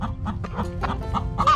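Chickens cluck in a run of short, repeated calls, fairly close and steady, with a slightly higher squawk near the end.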